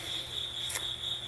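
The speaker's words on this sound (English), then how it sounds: "the sound of just one cricket could be so disturbing" A single cricket trills steadily and continuously, a thin, high, even chirp with a brief click partway through over a quiet background.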